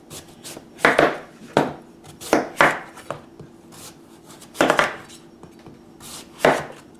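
A knife chops through pumpkin on a cutting board, cutting it into slices about an inch thick. Sharp, distinct cuts land in a loose, uneven rhythm, close and fairly loud, and no one speaks.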